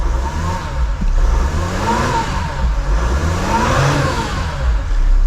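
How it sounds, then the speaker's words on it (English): A Mercedes Sprinter van with a freshly replaced EGR valve idles up close, its diesel engine running with a steady low rumble and a few gentle rises and falls in pitch, with no voices over it. "the engine is running."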